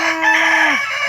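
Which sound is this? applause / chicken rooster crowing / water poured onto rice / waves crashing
chicken rooster crowing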